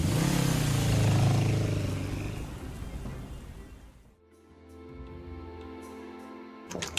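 A motorbike starts up and rides off with a loud, rumbling rev that swells and then fades into the distance before music takes over.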